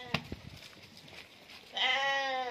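Ossimi sheep bleating close by at a livestock sale: a long, wavering bleat with strong harmonics fills the second half, after a few short animal sounds and rustling.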